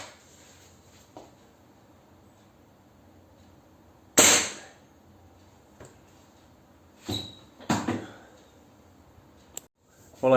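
A Crosman Shockwave .177 air pistol fires darts, giving one sharp pop at a time in a quiet outdoor setting. The shots are spaced apart and separated by faint handling clicks.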